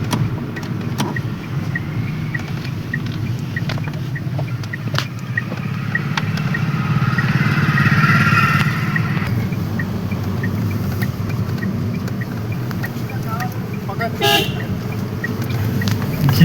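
A Tata Altroz car drives along with a low engine and road rumble, and a sharp horn toot sounds briefly near the end over the steady cabin noise.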